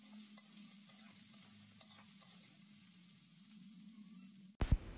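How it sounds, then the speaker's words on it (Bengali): Snake gourd frying in a pan with cumin powder and dried chili powder, a soft low sizzle with a few light stirring taps, ending in a sudden loud clatter. "আবারও আমি কিছুক্ষণ ভেজে নেব।"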